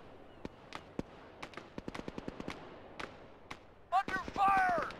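Gunfire in the military shooter ArmA 3: a run of sharp single and rapid shots, some close and loud, others more distant, with radio-style voices and game effects rising near the end.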